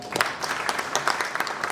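Brief burst of applause from the crowd at a film announcement press conference, quick scattered claps lasting under two seconds at moderate volume.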